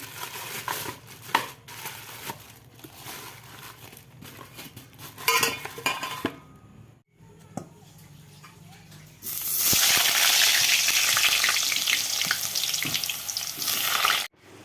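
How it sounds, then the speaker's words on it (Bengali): Meat being sautéed for kosha in a pan, with clattering utensils and dish noises early on, then a loud, steady sizzle that takes over for the last five seconds. "বন্ধুরা এখন হচ্ছে মাংস কষানো মাংস কষাচ্ছি"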